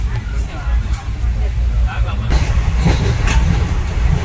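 Low, heavy rumble of a moving train car travelling from Konkan to Mumbai, with rattling and scattered chatter, steady throughout.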